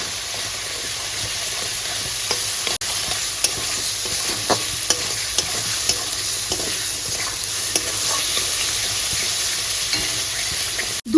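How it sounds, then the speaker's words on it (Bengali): Masala with salt and half a spoon of turmeric fries on a high gas flame in a steady, close hiss with scattered crackles and scraping stirs, no talking. "গ্যাসের ফ্লেমটাকে এবার বাড়িয়ে দিয়ে খুব ভালো করে মশলাটা কষে নেব"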